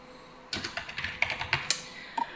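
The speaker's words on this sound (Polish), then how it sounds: "Wpisujemy dowolną nazwę" Fingers tap out a project name on a computer keyboard in a video editing program, a quick irregular run of clicky keystrokes, close and fairly quiet, with no voice.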